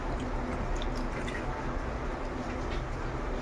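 Dried salted fish, karuvadu, is rinsed by hand in water, making steady close wet squishing, sloshing and dripping sounds throughout.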